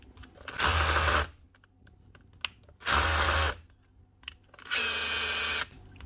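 A Makita power drill, a hammer drill on the repair bench with a faulty chuck, runs in three short bursts of about half a second each. Each burst is separated by quiet pauses, close and loud, with no talking.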